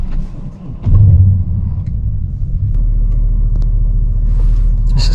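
A 2006 BMW 650i E63 running on LPG gives a low, steady engine rumble while driving, swelling louder after a second and holding a constant drone from the cabin.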